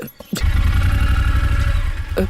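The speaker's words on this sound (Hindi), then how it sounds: "बाइक।" A motorbike engine runs close and loud with a steady low rumble for about two seconds, starting abruptly after a brief quiet moment.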